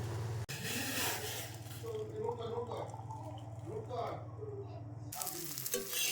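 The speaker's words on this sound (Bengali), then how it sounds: "এখানে কারি পাতা দিয়ে লঙ্কা দিয়ে আলু ভেজে ওর সঙ্গে একটু ডিম ভেজে নিচ্ছি" Potatoes fry with curry leaves and green chili in a home kitchen pan, a loud steady close sizzle hissing continuously through most of the clip, with brief stirring sounds and a voice talking over it.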